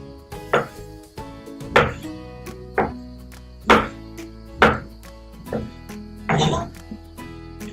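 A knife slices through fruit on a cutting board in about eight firm, evenly spaced chops, each a crisp close thunk against the board with short pauses between.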